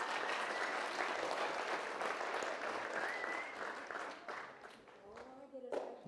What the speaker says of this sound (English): You guys can clap louder for her